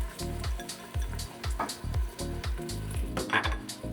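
Chopped onion sautéing in hot olive oil in a pot for Greek gigantes plaki, with a steady close sizzle under repeated clanks and scrapes of a utensil against the pot at a regular rhythm.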